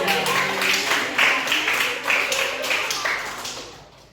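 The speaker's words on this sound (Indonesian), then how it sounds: "Kasih tepuk tangan ke Rizky dan Mas." Classroom students clap for their classmates during a teaching-practice history lesson, a brisk patter of many hands filling the room for about four seconds and thinning out at the end, with a faint voice briefly underneath.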